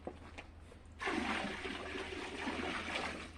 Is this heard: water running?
yes